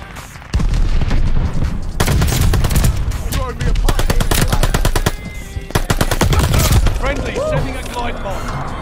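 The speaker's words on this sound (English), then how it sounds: "Now I might start using the LMG." LMG machine gun firing in Call of Duty Vanguard, long rapid bursts of loud close automatic fire broken by short pauses, with a player's voice talking over the gunfire.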